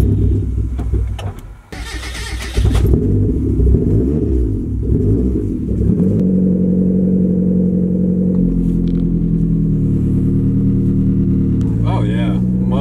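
A car engine running on rubbing alcohol fuel cranks and catches, revs up in uneven bursts, then settles into a loud, steady rumble, close by. People talk over the engine.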